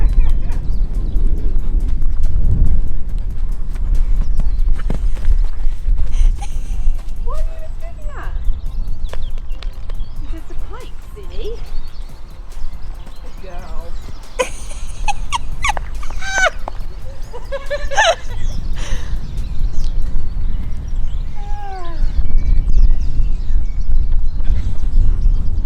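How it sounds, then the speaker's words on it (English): Hooves of a small, lively mare pony thudding and clattering as she hops about under a rider on her first ride in three years, mixed with rustling, breathing and people talking over it. "It's a little pony doing a bunny hop."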